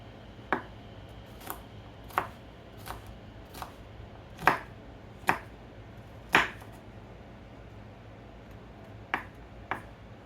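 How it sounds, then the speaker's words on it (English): A knife chops ingredients for a frittata on a board, giving sharp, separate knocks at an uneven pace with short pauses between them, close and clear in a quiet kitchen. "we're going to keep chopping until I get that almost full"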